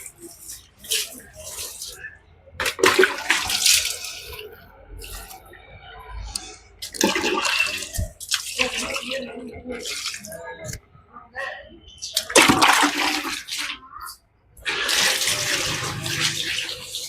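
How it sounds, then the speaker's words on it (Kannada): Water is poured over dry garden plants in several separate splashing bursts with brief pauses between them, close by, with faint household sounds in the gaps. "ನಾನು ಆಚೆಗಡೆ ಗಿಡಗಳಿಗೆ ಸ್ವಲ್ಪ ನೀರು ಹಾಕ್ಬೇಕು"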